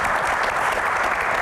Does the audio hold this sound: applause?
yes